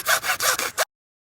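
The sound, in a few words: cutting wood to size for a tree house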